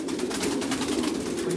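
Pouter pigeons coo in a loft, a low, continuous throaty cooing with soft rustling of wings, close and moderately quiet.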